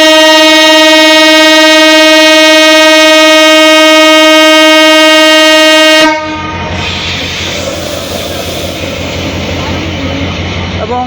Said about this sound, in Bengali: ট্রেনটি এখানে বেশ কিছুটা সময় ধরে দাঁড়িয়ে আছে